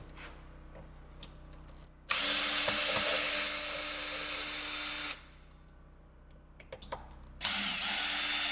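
A power drill backs screws out of a doorknob lock set on a door, two loud sustained bursts of whirring with brief quiet gaps and small handling clicks between them, close and without talk.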